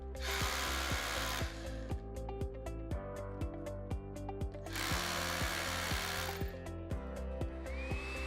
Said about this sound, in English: drill the remaining depth for your fixings